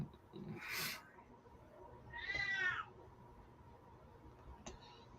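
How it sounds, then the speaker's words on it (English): A cat meows twice indoors, a short call followed by a longer, louder drawn-out meow, with a faint click afterward and quiet room noise between. "I hear a mouthy kitty"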